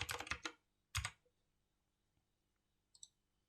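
Keys on a computer keyboard clack in a quick cluster of faint taps, then a single press, then a couple of light clicks after a near-silent pause.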